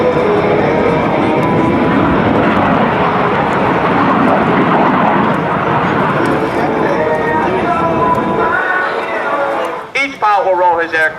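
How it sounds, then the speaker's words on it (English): US Navy Blue Angels jets performing rolling maneuvers at an airshow, a loud continuous roaring jet wash that fades out near the end as an announcer's voice takes over. "Will roll his aircraft 270 degrees in ripple fashion"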